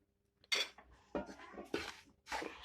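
Semolina and gram flour halwa stirred in a pan over a low flame just after sugar syrup is added, giving several separate scraping clinks of a utensil against the metal pan, close and clear, with quiet gaps between strokes.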